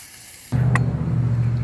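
Ground beef for a bacon cheeseburger dropping into a hot pan: a sudden loud hiss bursts in after a quiet moment and continues as a steady, close sizzle.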